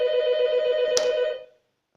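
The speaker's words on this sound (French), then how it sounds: "puisque je suis interrompu par le téléphone, je vais m'en arrêter là pour aujourd'hui" A telephone rings with a steady, bright electronic tone that holds for over a second, broken by a brief click, then cuts off into silence.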